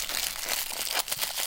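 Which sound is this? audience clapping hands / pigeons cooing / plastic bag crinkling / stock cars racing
plastic bag crinkling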